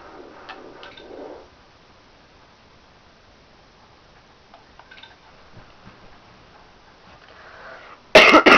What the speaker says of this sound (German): Entschuldigung, musste husten.